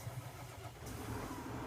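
A Farming Simulator 19 vehicle engine hums at a mid-pitched idle with a gentle rise partway through, steady and alone without speech.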